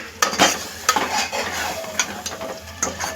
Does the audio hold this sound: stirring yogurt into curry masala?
yes